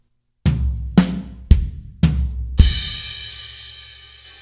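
Four evenly spaced drum hits on a kit, each a sharp attack with a low thump, land slowly about half a second apart, closing the slow linear fill with a crash cymbal that rings and decays.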